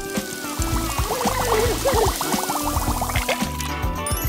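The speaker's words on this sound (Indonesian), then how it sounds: "siapa yang butuh salon kalau kita punya soda dan suara desisnya?" Soda pouring into a container with a steady liquid rush and bubbly fizz, gurgling and splashing at moderate loudness close by, with no voices.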